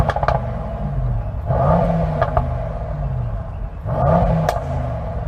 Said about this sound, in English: I'm going to rev up the Merc first